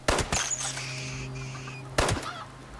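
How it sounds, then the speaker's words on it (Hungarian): In the Fallout 76 video game, two sharp gunshots about two seconds apart ring out, and a chicken clucks and squawks between them, loud and close, with no speech. "Mi van, a csirke túlélt egy lövést?"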